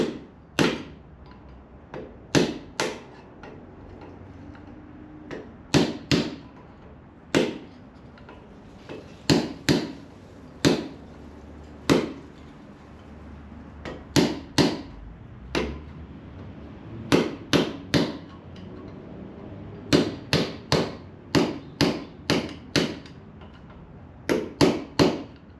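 Hammer blows driving a shim in during maintenance work, sharp distinct impacts in irregular clusters of two to four, fairly close, with quiet gaps between.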